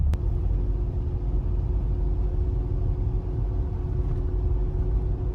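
Toyota Land Cruiser 105 Series on a road test, its steady engine rumble and road noise droning continuously and fairly loud throughout, with a faint hum and no talking.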